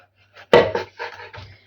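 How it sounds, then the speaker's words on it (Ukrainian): A knife cutting hot pepper into small rings on a board: one sharp chop followed by several quicker, softer slicing strokes, close up and uneven in rhythm. "Нарізаю перчик досить таки дрібно."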